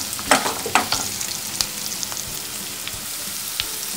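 Stuffed brinjals fry in spicy masala in a pan with a steady close sizzle, broken by a few sharp crackles and pops near the start as they settle in the hot oil.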